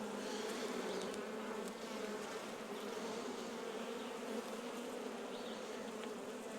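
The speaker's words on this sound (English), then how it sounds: "these bees are already starting to bring a little nectar in" A colony of honeybees hums inside a hive newly moved up from a nuc, a dense, even buzz that carries on without pause, fairly quiet and close, with no voices.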